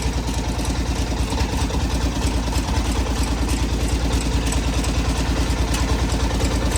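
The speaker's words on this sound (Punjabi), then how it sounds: "ਲੋ ਜੀ ਕੰਮ ਹੁਣ ਇੰਜਨ ਨਾਲ ਕਰਤਾ ਸਟਾਰਟ" A farm engine runs a sugarcane crusher for making jaggery, chugging loud and close in a steady, rapid rhythmic idle with metallic clatter and no pauses.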